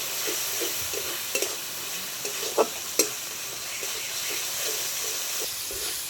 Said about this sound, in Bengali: সমস্ত মশলাগুলোকে খুব ভালোভাবে নেড়ে চেড়ে কষিয়ে নেব।